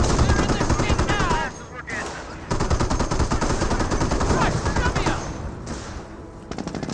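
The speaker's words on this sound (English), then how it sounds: "Does get suppressed there thanks to that 50 cal upgrade." Rapid bursts of .50 cal machine gun fire sound in a Company of Heroes battle, rattling in dense rhythmic volleys amid other battlefield noise, with a voice talking over much of it.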